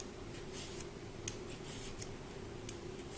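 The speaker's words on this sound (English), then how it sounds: "And then you'll take your vegetable peeler" A vegetable peeler scrapes the skin off a cucumber in a series of short, soft strokes, each a brief raspy swipe. The strokes come at an uneven pace over a steady low background hum, and no one speaks.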